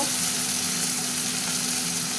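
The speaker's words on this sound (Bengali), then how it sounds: "পেঁয়াজটা ভাজা ভাজা হয়ে গেছে, টমেটো সিদ্ধটা দিয়ে দিলাম" Onions with boiled tomato frying in a pan while a curry is being cooked, giving a steady, close sizzle that holds even and continuous throughout, with no talking.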